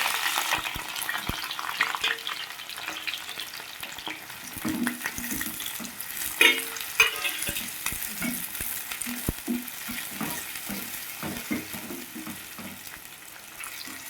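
Chopped onions and green chillies fry in a pan for a fenugreek leaf and tomato curry, giving a continuous close sizzle with light stirring scrapes throughout and no voices.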